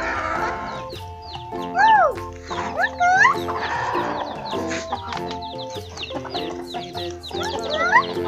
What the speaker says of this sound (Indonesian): Itu yang ayam di sana